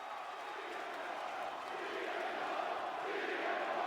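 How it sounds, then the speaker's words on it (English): A wrestling arena crowd chants for CM Punk after his title defense against Jay White, a dense, rolling roar of many voices that holds steady and swells slightly toward the end. "with the crowd, crowd chanting CM Punk."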